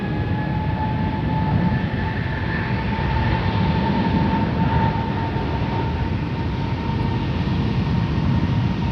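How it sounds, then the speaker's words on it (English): A Delta Airbus A350-900 taking off from Schiphol's Polderbaan runway 36L bound for Detroit, a sustained deep engine roar with a steady tonal whine running throughout, no voices. "Delta Airlines Flight 133, A350-900 to Detroit"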